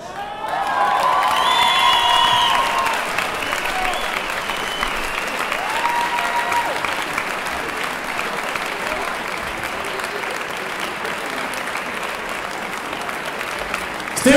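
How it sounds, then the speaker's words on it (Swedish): Loud audience applause with cheering and whistles at an MMA fight event, steady dense clapping throughout, with voices shouting over it. "Stor applåd här en gång!"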